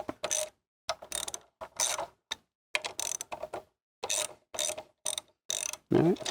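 Ratchet clicking in repeated short bursts as caliper bolts are loosened on a sportbike's front brake, the bike still on the ground; close, crisp mechanical ratcheting with brief pauses between strokes, no talking.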